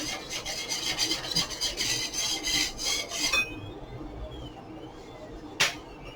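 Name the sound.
scraping residue off FLSUN QQ-S 3D printer part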